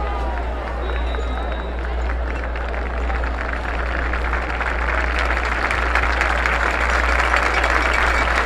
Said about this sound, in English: Hear the applause for Drake McClurg as he's on the golf cart headed to the locker room